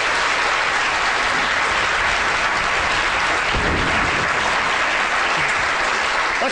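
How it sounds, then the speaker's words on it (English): An audience claps loudly and steadily for several seconds, a dense, sustained round of applause with no speech. "Big round of applause."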